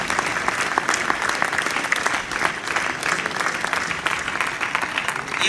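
An audience at a business leaders' meeting bursts into loud, sustained applause, a dense wash of clapping that carries on evenly without a break.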